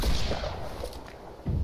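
Cannons fire from a pirate ship in a naval video game battle, giving sharp booming shots at the start and again near the end, each with a rolling low rumble between them.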